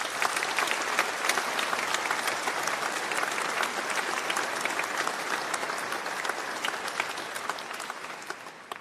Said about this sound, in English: could I ask you to join with me in giving her a round of applause for her support